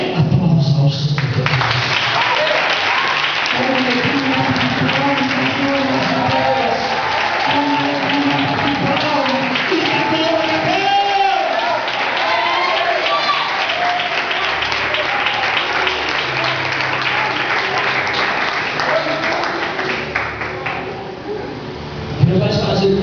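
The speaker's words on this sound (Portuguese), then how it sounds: "Aplausos ao Senhor." Church congregation applauds steadily for over twenty seconds, a dense continuous wash of clapping mixed with voices and cheering throughout, loud and sustained before tapering near the end.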